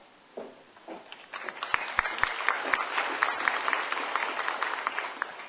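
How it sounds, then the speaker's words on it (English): Applause from a commencement audience at a spring 2008 University of Hawaii graduation swells from scattered claps into dense, steady clapping, with no voices over it. "You realize it's a little unusual to clap before I say anything."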